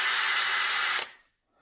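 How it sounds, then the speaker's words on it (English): A high, steady whine of a dull drill boring into plastic runs for about a second up close, then cuts off abruptly into near silence. "It will take me a second to drill it"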